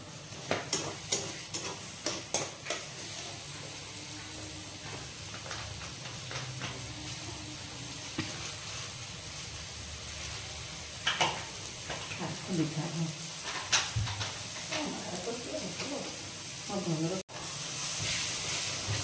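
Tomato puree with turmeric frying in a pan for prawn curry, a steady close sizzle and hiss with occasional stirring scrapes, broken by a few louder clatters and a brief gap near the end.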